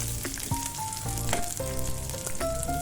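Onion and tamarind frying in a pan for peanut chutney, a steady close sizzle with clinks and scrapes of stirring and some tonal ringing, no talk.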